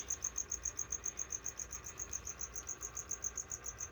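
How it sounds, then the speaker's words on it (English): Crickets chirp steadily inside an enclosure in a gecko keeper's room at night, a fast, even pulsing trill that stays close and continuous with no talk over it. "they hear the crickets. The cricket enclosure's right there."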